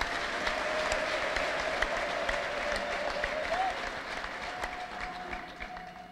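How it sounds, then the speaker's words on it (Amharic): A church congregation claps steadily in a sustained round of applause that gradually softens toward the end, with a faint tone beneath it. "እስቲ አጨብጭቡ ለጌታ።"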